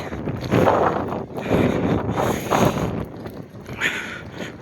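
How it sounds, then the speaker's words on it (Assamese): Cold wind gusts at the snowy Tawang district gate in Arunachal Pradesh, buffeting the microphone as loud, rough rumbling surges that swell and ease over a few seconds, with no talking. "দেখিছে কিমান বতাহ মাৰি আছে, ঠাণ্ডা বতাহ মাৰি আছে"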